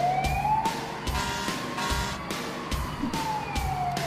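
A loud siren wails in rising and falling sweeps, close by and continuous, with rhythmic pulsing over a rumbling background.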